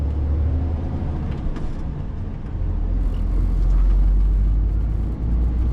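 A rigid truck's engine drones loud and close from inside the cab while driving, a steady low rumble that swells slightly midway, with faint road whir above it.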